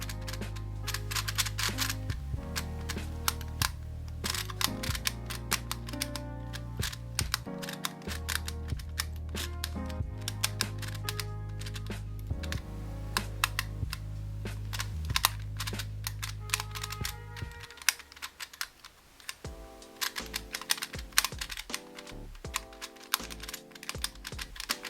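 Rapid sharp clicking of the pins on a QiYi magnetic clock puzzle as they are spun and flicked, a dense close tapping pattern with some low hum early on.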